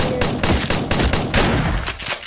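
Rapid bursts of gunfire in the Build Royale.io video game, dense overlapping shots in quick succession, loud and close, tapering off at the end.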